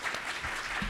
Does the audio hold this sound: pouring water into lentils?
no